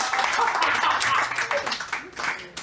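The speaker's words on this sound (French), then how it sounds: "Maintenant! On l'applaudit! Allez!" Audience at a Quebec comedy show, Humour sur mesure, clapping to welcome a guest onstage; dense, steady applause mixed with cheers and crowd voices, fading slightly near the end.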